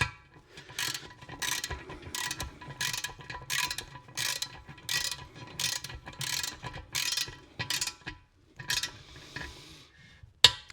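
A small 3/8-inch torque wrench ratchets in quick bursts of sharp clicking, about a dozen close, crisp strokes in a steady rhythm with short pauses between, followed by a few scattered clicks near the end.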